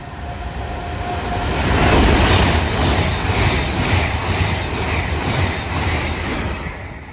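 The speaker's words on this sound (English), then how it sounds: "Soon to pass through now will be a Advent West Coast 390 Pendolino." An Avanti West Coast Class 390 Pendolino passes through Watford Junction on the West Coast Main Line, a loud, steady rush of wheels and air that swells over the first two seconds and holds, with a faint high whine running through it.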